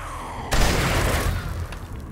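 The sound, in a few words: gunshots in a video game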